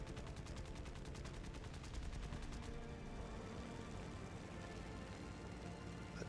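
Aircraft machine guns rattle in rapid, steady bursts during close-range firing passes in the War Thunder video game, a dense continuous chatter that gives way to engine and battle noise.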